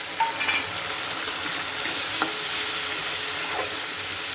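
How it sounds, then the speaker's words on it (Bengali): Cumin, chili and turmeric powders with sugar are sautéed in mustard paste and oil for a Bata fish curry, a steady bright sizzle with occasional light utensil taps against the pan, no speech. "এবার এই মশলাটা এর সাথে একটু কষিয়ে নেব"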